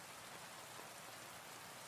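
Steady rain falls as an even, soft hiss of drops on surfaces, faint and unbroken, with no voices.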